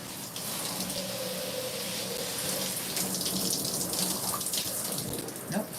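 Tap water runs steadily from a faucet to rinse burgundy Revlon box hair dye, a continuous close rushing splash with minor shifts in tone as it falls.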